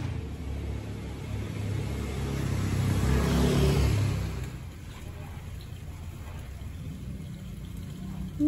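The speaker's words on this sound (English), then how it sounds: "It's a bit noisy with all the scooters." Scooters and motor traffic pass on a busy street in Ubud, Bali, a steady rumble of engines swelling as one goes by close, then easing back to a continuous background drone.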